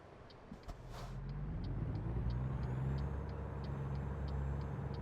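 A truck in American Truck Simulator rumbles low as the engine builds after a gear change, a faint clack and short hiss early on, then a steady growling drone with a faint high whine.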